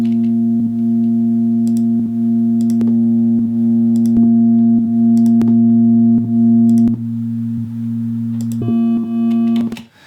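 A sustained synthesizer tone drones with a steady low pitch through an analog 12 dB filter, broken by regular clicks and short plucked blips, the sound filtered and smooth, ending abruptly.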